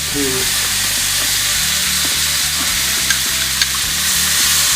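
Scallops sear in a hot pan seasoned with lemon and Old Bay, giving a loud, continuous sizzle and crackle. A few faint low knocks, probably from stirring, sound beneath it and no one speaks.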